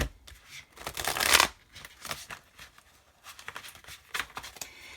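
Tarot cards shuffled by hand in close, crisp riffling bursts, a long flurry followed by several shorter irregular passes, with no talking.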